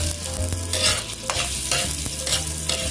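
Ginger frying in oil in a home kitchen pan, a steady close sizzle with repeated scraping stirs of a utensil throughout, no talking.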